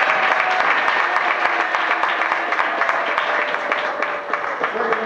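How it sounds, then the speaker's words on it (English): A crowd at a junior peewee football team gathering claps and applauds for the kids, a steady dense patter of many hands close by, with voices mixed in under the clapping throughout. "everybody give them a round of applause."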